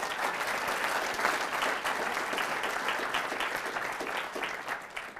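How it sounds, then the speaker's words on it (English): Sustained applause from a large audience at a campus speaking event, dense steady clapping that holds at an even level for several seconds, with no speech over it. "let's have a round of applause for YAF"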